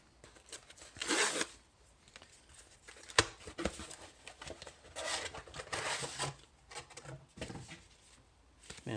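Heavily packaged trading cards are being unwrapped by hand, with bursts of tearing, ripping and rustling material and an occasional sharp snap, fairly quiet and close.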